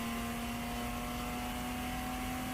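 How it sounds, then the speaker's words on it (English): A race car in a ChampCar endurance event at Daytona drones steadily with a sustained engine tone that holds loud and even, with no talk over it. "You can hear the Wilson Daly machine pick up the speed"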